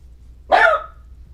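A single dog bark sounds nearby, one short loud burst standing alone against a quiet background.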